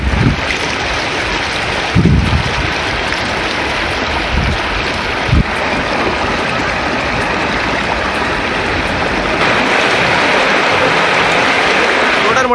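Floodwaters of the Thamirabarani river in spate, around a temple midstream, give a loud, continuous roar of rushing water mixed with heavy wind buffeting, with a few low thumps near the start.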